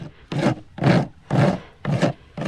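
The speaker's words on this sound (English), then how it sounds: "Use an old dull rasp for this." An old, dull rasp files down clinched horseshoe nails on a hoof in five slow, even strokes, each a coarse close-up scraping rasp with short pauses in between.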